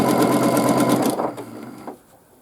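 A domestic sewing machine stitches free-motion quilted swirls, its steady rapid needle buzz running loud and close for about a second before slowing, stopping briefly, then giving a final short burst and going quiet.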